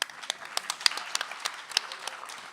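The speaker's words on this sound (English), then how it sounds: "your applause already took 10 seconds" An audience at a writers' festival comedy session applauds, a steady wash of many hands clapping with a few sharper claps standing out near the front.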